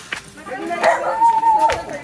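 A dog barks a few times amid outdoor bustle and nearby voices, the barks short and fairly close.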